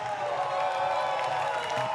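A crowd at a live show cheers and claps for Conan le King, a steady wash of applause and voices sustained without a break, moderately loud and close.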